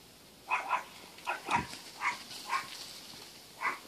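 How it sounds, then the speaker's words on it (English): A puppy barks outdoors at Child's Lake, Manitoba, giving about eight short, high yips in irregular bursts at a moderate distance over quiet background. "we've got a puppy dog that likes to scare these guys off at the most opportune time."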